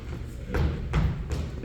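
A $9 Costco Chardonnay bottle falls and lands with a few dull, heavy thuds close by, against a backdrop of crowd noise from a live theater show.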